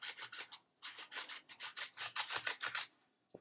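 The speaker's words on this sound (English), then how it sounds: "Just gonna rub that down." A small handheld tool rubbing down a paper card, producing soft, rhythmic scratchy strokes in two quick runs separated by a short pause, close and quiet.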